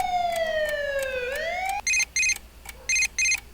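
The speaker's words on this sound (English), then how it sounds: "that abrupt ass siren though" An abrupt electronic siren from the Persona 4 video game: a loud wailing tone sweeps down and back up, then breaks into four sharp repeated high-pitched beeps in two pairs, with no talking.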